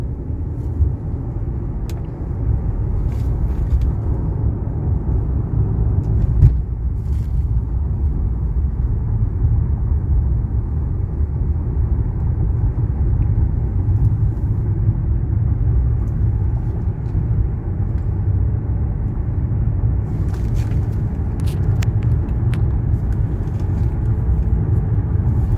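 A 1999 Mercedes S500 Grand Edition V8 engine accelerates hard in heavy traffic, a deep, steady, loud drone and rumble from inside the car that holds unbroken throughout, with no talking.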